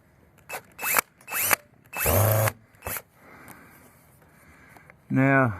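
Power drill driving screws while mounting a video doorbell, heard as several short whirring bursts separated by pauses, with a longer rising whine near the end.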